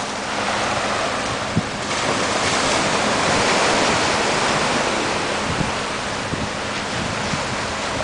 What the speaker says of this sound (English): That's the picture of the entire bay, so southern end of Patong Beach, Phuket.